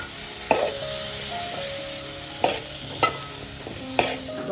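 Beans cooking in a pan, stirred with a utensil: a steady low sizzle runs throughout, broken by four sharp scraping knocks spaced a second or so apart, close and clear with no talking.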